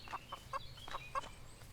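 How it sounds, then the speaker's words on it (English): Short, repeated clucks from a chicken in the farming game Everdream Valley, about six quick notes in an uneven rhythm, close and clear over quiet ambient background. "Oh, there's the chicken."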